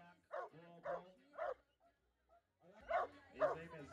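A solid black tracking dog at an annual dog show in Kampala gives a string of three barks, a pause, then two more, fairly close and clear against a quiet background.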